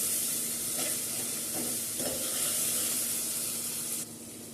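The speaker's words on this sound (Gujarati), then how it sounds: "ટામેટાને આપણે પાકવા દઈશું તેલમાં." Tomatoes cook and sizzle in hot oil for Gujarati dal, a steady hiss with a few soft stirring scrapes near the pan, with no talk and the sizzle dropping quieter toward the end.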